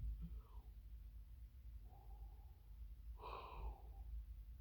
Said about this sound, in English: sorry, yawning